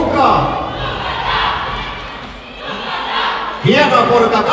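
An audience at a bikini fitness competition cheers and shouts in loud bursts, a roaring crowd that dips briefly before surging again with a sudden burst of yells near the end.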